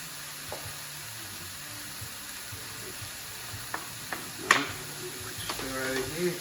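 Mushrooms frying in a pan for beef chow mein, a faint steady sizzle with occasional scraping stirs and a few sharper clinks toward the end.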